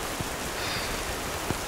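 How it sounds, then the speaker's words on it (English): Heavy rain pours down at night on a mountain campsite at Bananthimari Betta, a dense, steady hiss with no pauses and no voices. "As now it started raining really heavy."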